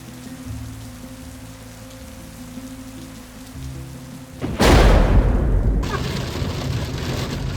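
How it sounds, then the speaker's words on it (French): A low steady hum gives way halfway to a loud, close rush of rain pattering densely on a surface and continuing to the end. "Voilà, il pleut."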